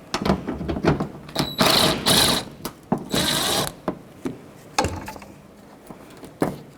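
Ratchet wrench with a 10mm socket loosening a bumper cover bolt on a 2006-2012 Toyota RAV4, heard up close as bursts of quick clicking with short pauses between turns.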